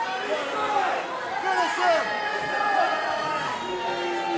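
Wrestling crowd in Canton reacting to Studio 86 during a tag title match, a steady mix of jeers, shouts and chatter from a live audience, with a commentator talking over it.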